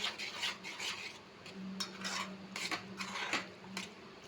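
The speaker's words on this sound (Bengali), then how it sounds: "ভালোভাবে মিশিয়ে দেবো জিরে ভাজাটা দেবেন" Fried cumin being stirred into a pan of tomato chutney, with close, irregular scraping and clinking of a spoon against the pan in short bursts over a faint background hum.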